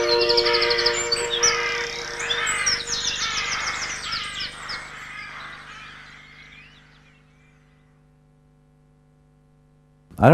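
Dense chorus of birds chirping and calling, fairly close and busy at first, then thinning out and fading to near silence before a sudden loud burst at the end.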